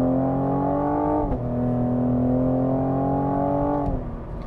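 A Cadillac CT5-V's exhaust in V mode revs up, rising and falling in pitch as a deep, steady engine drone. The engine sounds close and clear, and no one speaks.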